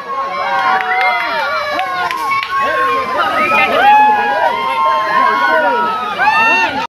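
A large, dense crowd gathers at a Durga Puja immersion procession, loud shouting and overlapping excited voices crowding together continuously and close by, with people talking among them throughout.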